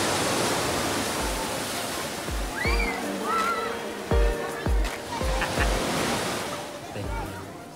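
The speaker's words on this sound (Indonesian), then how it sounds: "Untuk ombaknya sendiri sangat bersahabat ya, tidak terlalu besar" Gentle, small sea waves wash onto the beach at Pantai Mutiara in Trenggalek as a steady surf hiss. Faint knocks and other sounds of people sit beneath it.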